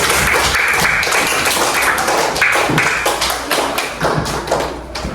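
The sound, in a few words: classroom clapping, students applauding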